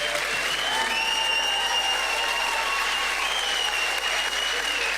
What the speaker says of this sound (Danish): Og så skal jeg lige vinde det obligatoriske bifald til de 2 unge herrer.